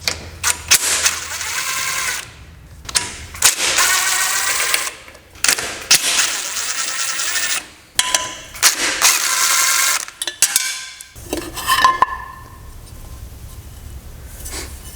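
Ratcheting socket wrench with a 10 mm socket loosening valve cover bolts on a riding mower engine, heard as bursts of rapid mechanical clicking separated by short pauses, close up.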